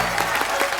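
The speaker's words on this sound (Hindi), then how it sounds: "जोरदार तालियां हो जाए।" A studio audience on The Kapil Sharma Show bursts into applause. The clapping is a brief, dense patter heard on its own.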